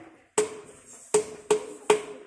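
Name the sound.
striking a resonant stone like a drum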